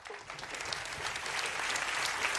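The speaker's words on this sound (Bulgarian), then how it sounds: "Аплодисмент за Фънки Мантис." Brisk applause from a TV talent show studio audience swells over a couple of seconds, dense clapping growing louder and fuller.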